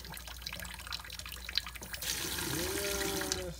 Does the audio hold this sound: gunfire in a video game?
no